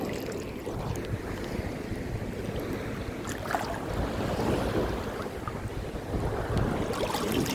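Steady sea surf and gusting wind along Sarangani Bay, a continuous wash of waves with wind buffeting the microphone, no voices, moderately loud throughout.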